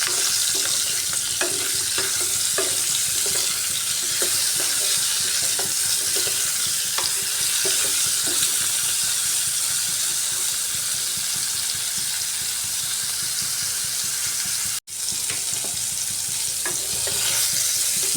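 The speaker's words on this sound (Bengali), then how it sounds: "ঝিঙ্গেটাও একটু গ্যাসের হিটটা ফুল করে হালকাভাবে ভেজে নিচ্ছি।" Ridge gourd frying in a pan on a gas flame turned up to full, with a steady loud sizzle throughout and repeated stirring scrapes, close and with no talking.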